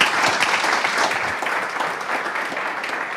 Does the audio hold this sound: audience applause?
yes